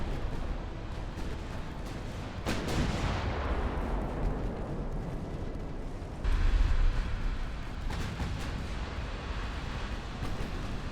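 Heavy naval ship guns boom in the warship game Ultimate Admiral: Dreadnoughts, with several deep salvos breaking over a constant low rumble of battle and sea.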